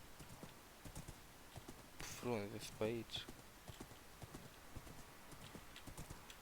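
Horse hooves clip-clopping as a rider gallops through the Minecraft video game, a quick, steady patter running throughout, with a brief burst of horse snorting midway and someone talking over it.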